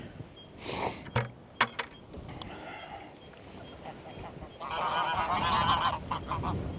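Farm geese honk a few times nearby during feeding, short loud calls early on, followed by a busier stretch of mixed honking and clattering background noise.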